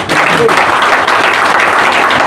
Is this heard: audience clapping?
yes